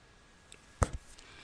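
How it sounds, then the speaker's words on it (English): A single sharp finger click rings out nearly alone, followed by a fainter second tap, against a quiet background. "I will demonstrate by clicking my fingers."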